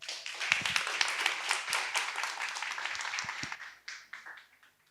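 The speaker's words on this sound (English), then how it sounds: "Ladies and gentlemen, here's where your applause." An audience at a university startup innovation forum applauds for a fireside chat panel, steady dense clapping filling the room for about four seconds before tapering off to scattered claps.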